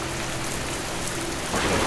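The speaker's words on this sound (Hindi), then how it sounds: "जब अचानक तेज तूफान शुरू हो गया।" Heavy rain pours in a steady, dense hiss during a sudden storm, swelling louder near the end; no voices.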